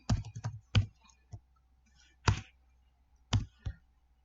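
Keys tapped on a computer keyboard while entering a username and password, a few scattered clicks and short bursts with gaps between them, close and fairly quiet, with no talking.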